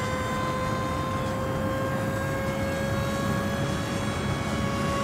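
Electric motor of a Flinch 37-inch FPV flying wing from Sweep Wings running under partial throttle, a steady high whine with a sustained propeller buzz, close and unbroken.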